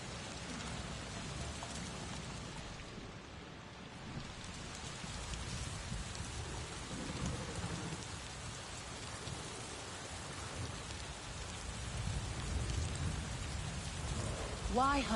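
Steady rain with low rumbling thunder in a stormy outdoor scene from the video game Avatar: Frontiers of Pandora, a continuous wash of rainfall that swells slightly toward the end.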